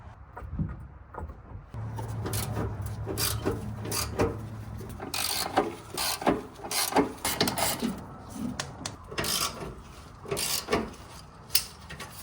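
A car jack is worked to raise and support the fuel tank of a Honda Vamos with a piece of wood, giving repeated close ratcheting and mechanical clicks at a steady rhythm, with a low steady hum early on.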